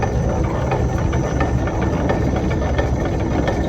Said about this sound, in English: So we're running it off this motor here.